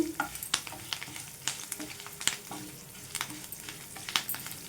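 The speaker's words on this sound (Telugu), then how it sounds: "ఇదైతే మంచిగా ఫ్రై చేసుకుందాం. మంచి కలర్ వచ్చేంత వరకు ఫ్రై చేసుకోవాలండి." Gongura chutney ingredients with curry leaves fry in a pan, catering style: a close crackle and sizzle with irregular sharp pops and stirring scrapes throughout, no voices.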